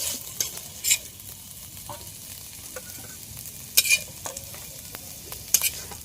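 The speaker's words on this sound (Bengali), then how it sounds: "এদিকে মায়ের আলু ভাজা প্রায় হয়ে গেছে এবার" Potatoes fry in a pan with a low steady sizzle, broken by several sharp metallic scrapes and clinks of stirring, close by and without talk.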